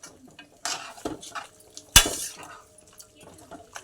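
A spoon scrapes and clanks through donkey meat curry with tomatoes and masala in a pot, a few separate stirring strokes with one sharp metallic knock, close by over a soft background sizzle.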